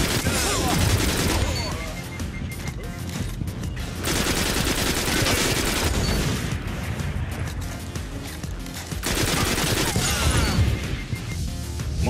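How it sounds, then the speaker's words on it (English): Auto rifle fire in the video game Destiny comes in dense, loud rapid bursts layered with impacts and explosions, with short lulls between volleys. "4 super fast kills with the auto rifle"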